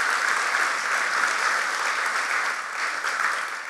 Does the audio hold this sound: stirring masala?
no